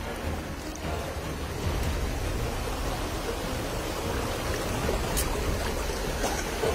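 Cold, clear river water flowing steadily at Santa Ana Falls, a continuous broadband rush that stays loud and even throughout, with no voices.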